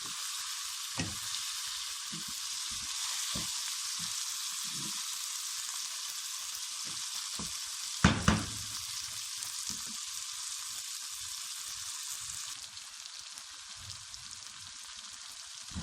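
Salt, turmeric and garam masala sizzle steadily in a hot pan, a continuous close frying hiss with occasional soft stirring knocks and a brief louder clatter midway.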